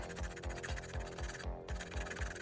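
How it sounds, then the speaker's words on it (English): Rapid, rhythmic rasping strokes of a hand file scraping a plastic Gunpla model part, close up and steady, with a brief pause midway. "we're going to take our file and just file it all down until it's about even"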